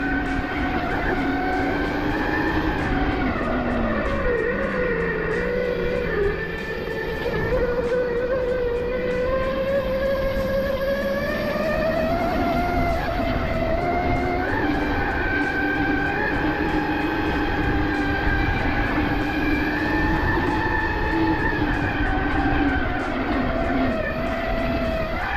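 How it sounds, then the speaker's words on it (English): Electric dirt bike, an RTR model fitted with stiffer pegs, rides steadily with a loud whining motor tone that rises and falls in pitch over sustained road and wind noise, no voices. "Bike is almost as loud as a gas bike"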